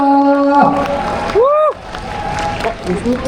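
Wedding guests applaud and cheer as a ballad group is introduced to sing, a lively crowd roar with a rising whoop-like whistle partway through.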